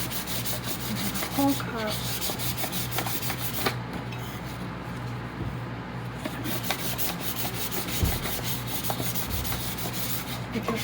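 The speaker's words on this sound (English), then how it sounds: "With your 400 grit sandpaper." A tumbler is sanded by hand with 400 grit sandpaper under light pressure, a steady close rasping rub that continues for several seconds, with only a brief spoken word.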